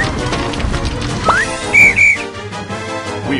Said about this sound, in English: Blow the whistle and tell us where you are.